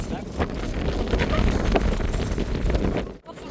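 Strong wind on a beach roars across the microphone in a loud, steady rush with gusts, and muffled voices come through underneath.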